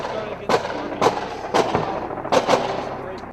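Sharp gunshot sound effects ring out within a true-crime crime narration, about five loud cracks at uneven intervals of roughly half a second, over a low, steady background.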